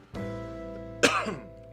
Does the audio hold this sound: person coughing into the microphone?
yes